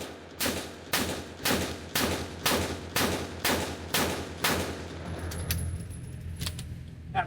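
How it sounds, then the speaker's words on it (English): Glock 26 subcompact pistol fired in a steady string of eight sharp shots at close range, evenly spaced about half a second apart, followed by faint metallic clinks and handling noise. "Just give y'all this 50 rounds of Glock 26."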